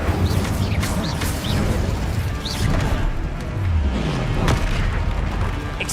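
Incendio fire spells being cast in the wizarding game Hogwarts Legacy, a loud run of booming, crackling blasts with whooshing bursts and rapid impacts packed close together throughout.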